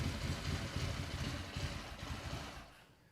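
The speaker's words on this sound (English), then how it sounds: "Thing started up with this little squirt of starting fluid and it idled." A vintage motorcycle engine idles after a squirt of starting fluid, a quiet steady low putter that fades toward the end, with no talking.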